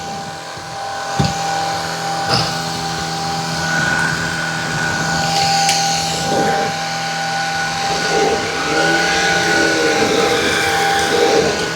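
Two Shark vacuum cleaners, a Vertex Pro and a Pet Essentials, roll across the floor picking up a mess. A loud, steady motor drone with a high whine carries throughout, with occasional knocks and shifts in pitch as they move.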